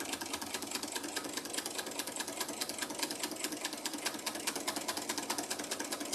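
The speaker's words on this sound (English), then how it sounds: "I'm making a 1/4 inch seam with a straight stitch" A sewing machine runs steadily, straight-stitching a quarter-inch seam on quilt binding fabric. The needle chatters in a fast, even rhythm, close and continuous throughout with no talk.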